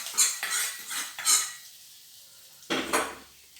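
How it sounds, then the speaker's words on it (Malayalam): A spoon scrapes and knocks against a pan as jackfruit puzhukku is mixed together. Several close, sharp clanks come in a loose rhythm, then a short quiet pause before one last scrape. "എല്ലാം കൂടി ഒന്ന് യോജിപ്പിക്കാം."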